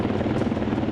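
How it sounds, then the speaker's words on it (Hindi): An Apache AH-64E attack helicopter flies nearby with a loud, continuous rotor drone and a rapid, steady blade chop, heard alone without talking. "यह है दुनिया का सबसे विध्वंसकारी हेलीकॉप्टर अपाचे AH-64E"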